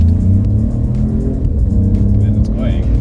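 A 2022 Opel Mokka in sport mode accelerates hard, its engine a loud, steady low rumble heard from inside the cabin, with a faint rising tone near the end.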